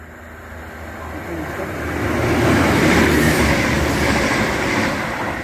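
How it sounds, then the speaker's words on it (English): ScotRail Class 170 diesel train passing through South Gyle station, a steady rumbling roar with rail noise that swells to a peak midway and then eases slightly, heard close and alone. "Now passing through is a ScotRail Class 170 running the 2G65 from Edinburgh to Glenrothes-Swift-Thornton via Cowdenbeath."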